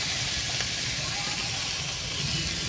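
Masala for a smoky kabab kosa sautés in a pan over a wood-fired clay stove, making a loud, constant close hiss and sizzle with no breaks.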